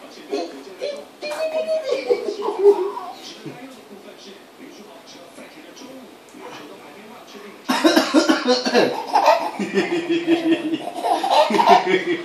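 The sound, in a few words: father coughing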